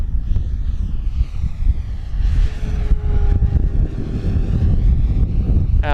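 An FMS P-40B Flying Tiger 1400mm RC model warplane makes a fast flyby, its engine whine rising and shifting in pitch as it passes, under strong wind rumble on the microphone.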